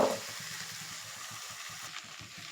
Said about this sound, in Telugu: మొత్తం ఇదంతా కలిసేటట్టు మిక్స్ చేసేసుకోవాలి.